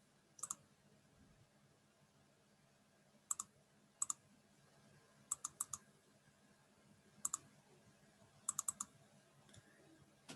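Sharp mouse clicks, several in quick pairs like double-clicks, spread sparsely across a quiet room with faint background hum and no talking.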